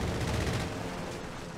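Rapid automatic fire from an MG42 machine gun in a World War II strategy video game, a dense, loud burst of shots that fades slightly over a second and a half.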